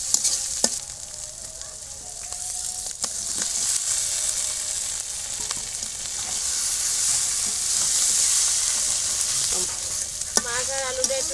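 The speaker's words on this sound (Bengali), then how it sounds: "এবার আমি মাছ আর আলুগুলো দিয়ে দেবো।" Rohu fish and potato pieces fry in spiced masala for fish bhuna, giving a continuous bright sizzle with occasional clinks and stirring scrapes close by.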